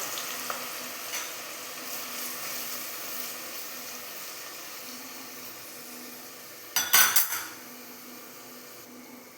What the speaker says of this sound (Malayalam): ഇനി ആ എണ്ണയിൽ തന്നെ നമുക്കൊരു രണ്ട് സവോള കനം കുറച്ച് അരിഞ്ഞതാണ് അതും കൂടി ഇട്ടൊന്ന് മൂപ്പിച്ചെടുക്കാം